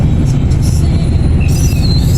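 An LRT train rumbles loudly through Manila, a heavy low roar with squealing wheels and rail screeches rising near the end.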